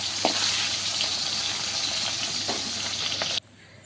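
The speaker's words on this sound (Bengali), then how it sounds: "আর এদিকে দেখো মাছ ভাজা বসিয়েছি" Fish frying in a pan in a home kitchen, a steady close hiss and crackle running without talk and with a few faint clinks, then cutting off abruptly near the end.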